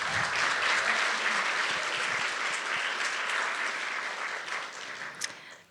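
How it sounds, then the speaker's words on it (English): A poetry showcase audience applauds a poet, dense sustained clapping filling the room on its own, no voices, slowly tapering off over the final seconds. "One more round of applause"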